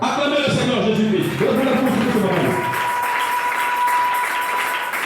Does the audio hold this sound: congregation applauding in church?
yes